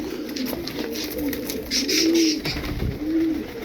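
Ash-grey tumbler pigeons coo in soft, low repeated calls, several in a row, with some rustling and outdoor background noise.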